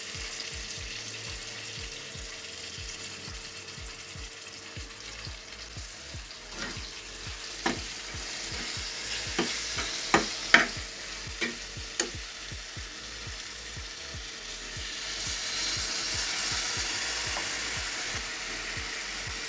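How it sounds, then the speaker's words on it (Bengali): Chopped onion and garlic with salt, turmeric, mixed spice, red chilli powder, tomato and green chillies fry in white oil, a steady close sizzle broken by a run of sharp spatula scrapes and clacks, the hiss swelling louder near the end. "দিয়া দিছি পেঁয়াজ রসুন কুচি, লবণ, হলুদ, মিক্স মশলা, লাল মরিচ পাউডার, টমেটো, কাঁচামরিচ রান্না করতেছি সাদা তেল দিয়ে।"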